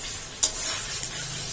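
Paneer frying and being stirred in a pan with spiced capsicum, a steady close sizzle with a sharp scrape of the spatula and a softer stir afterward.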